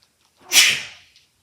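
One sharp sneeze, close and loud, with a quick inhale before the burst and a breathy tail that fades within a second.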